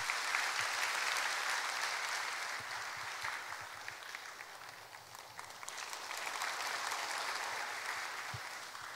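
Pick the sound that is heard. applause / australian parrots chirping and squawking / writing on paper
applause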